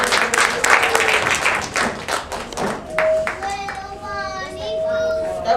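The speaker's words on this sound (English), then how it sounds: "He wants you to applaud." Children applaud at a magic show in a museum, with a burst of fast, close, bright clapping for about three seconds that then thins out. Excited children's voices chatter over it, and the clapping trails off into scattered claps.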